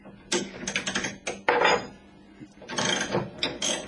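A motorcycle chain splitter tool, used alongside a second unit with the bike held in a vise, presses a pin back into the chain. Several bursts of close metallic creaking and clicking come in irregular bursts, separated by short pauses.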